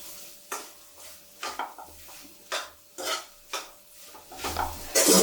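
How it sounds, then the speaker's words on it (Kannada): A spatula stirs egg fried rice in a pan after salt goes in, giving repeated close scraping and clanking strokes against the metal in an uneven rhythm, over a faint sizzle, with no talking. "ಉಪ್ಪಾಕಿ ನೀಟಾಗಿ ಎಲ್ಲ ಮಿಕ್ಸ್ ಮಾಡ್ಕೊಳ್ಳೋಣ"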